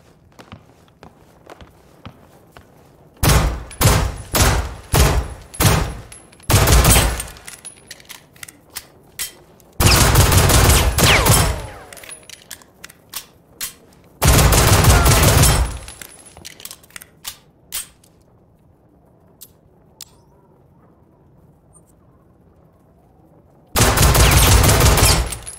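Gunfire aimed at a window in the video game Generation Zero: loud, sharp bursts of shots, first a quick run of separate cracks, then several longer sustained volleys with quiet gaps between them, and no talking.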